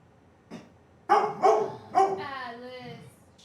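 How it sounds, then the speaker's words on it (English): A dog barks indoors in a short burst: one small yip followed by three loud close barks and a trailing whine, with nobody talking. "So sorry for the barking."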